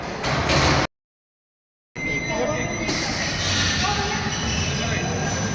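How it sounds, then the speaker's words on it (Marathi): A train rumbles and hisses nearby at Saptashrungi temple hill, with a steady, noisy roar, cut off briefly by a moment of total silence before it resumes. "बघा ट्रेन आलेली आहे आपण आता ट्रेनमध्ये सफर करणार आहे"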